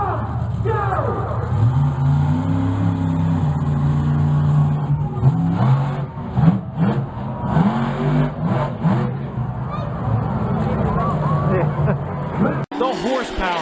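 A monster truck engine roars and revs through a freestyle competition run, with loud sustained rising and falling tones under an excited commentator and crowd noise in a large arena.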